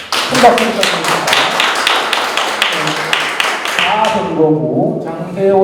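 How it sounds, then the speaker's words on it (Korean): A crowd at a Democratic Party local-election report meeting in Yeongju breaks into steady, dense applause that carries for several seconds, with a few louder claps standing out, then fades as voices and room noise take over near the end. "큰 박수 부탁드립니다."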